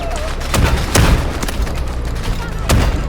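Heavy gunfire in the Delta Force video game, several loud booming shots with a sustained rattle of fusillade between them and a friend's voice faintly underneath.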